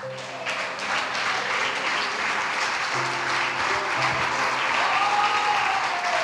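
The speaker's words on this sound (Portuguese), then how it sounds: "E as palmas louve ao Senhor." A church congregation at a Portuguese-language worship service breaks into loud, sustained applause, a dense wash of many hands clapping together that holds steady throughout without any speech.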